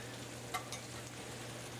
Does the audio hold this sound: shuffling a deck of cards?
no